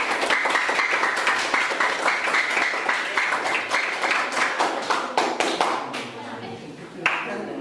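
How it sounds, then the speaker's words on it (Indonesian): A crowd claps steadily and continuously, a dense patter of many hands that thins slightly toward the end before a final burst. "tepuk tangan untuk kalian semua"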